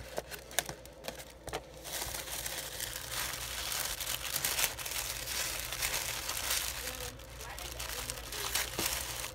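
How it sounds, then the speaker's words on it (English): Crinkly plastic and paper packaging rustles and crunches as a sticker goes onto a packaged bead craft order, close and continuous with a few sharper crackles. "I'm going to add a sticker to it."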